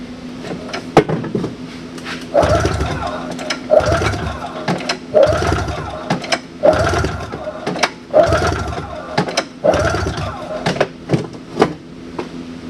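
A 1995 Yamaha Vmax 600 snowmobile engine turns over repeatedly in a compression test, giving a series of close, rhythmic cranking bursts with mechanical clunks between them.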